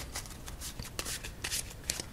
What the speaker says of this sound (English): let's shuffle this up nice and well again